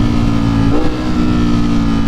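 A Ducati Streetfighter naked motorcycle engine drones loud and close while riding, with a brief dip and pitch shift midway as the quick shifter changes gear.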